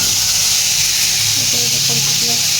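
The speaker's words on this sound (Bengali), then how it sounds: "এই যে দেখো, মাছটা ভাজছি" Fish fries in a pan with a loud, continuous hissing sizzle throughout, while a voice briefly talks over it toward the end.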